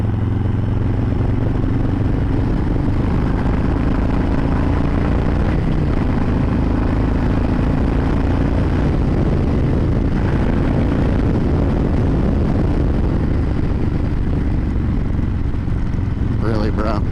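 A V-twin motorcycle cruising at 75 mph in third gear, giving a steady, loud low engine drone with rushing wind noise that holds throughout.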